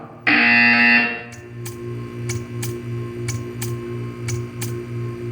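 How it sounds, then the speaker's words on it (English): A loud, harsh electronic buzzer in the video game Portal 2 blares for about a second, then a steady series of sharp ticks repeats over a low, pulsing hum. "You will hear a buzzer."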